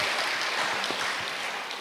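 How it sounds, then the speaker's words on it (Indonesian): A small audience at an Indonesian madrasah gathering claps steadily and evenly for a futsal athlete from Tulungagung, a dense patter with no voices over it. "Oke, tepuk tangan dong."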